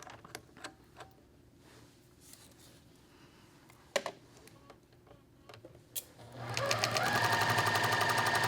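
A sewing machine stitches a seam at low stitch length, first a few scattered ticks and clicks, then a steady fast whirring run that starts near the end and stays loud.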